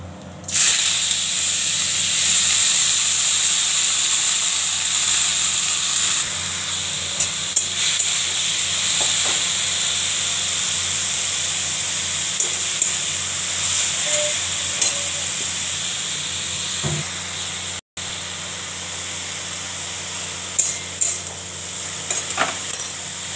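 Radish pieces sizzle hard in hot oil tempered with chili, mustard seeds and black cumin, a loud continuous frying hiss that holds steady throughout with occasional small crackles and stirring clinks.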